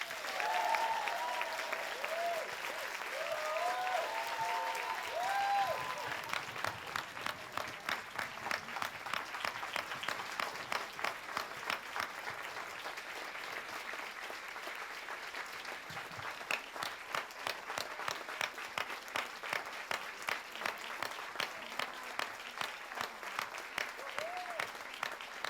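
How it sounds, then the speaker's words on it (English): An audience at the Cannes Film Festival gives John Travolta an ovation, with sustained dense applause that settles into rhythmic clapping in unison, loud and continuous throughout with no talk. "Merci de lui faire une ovation,"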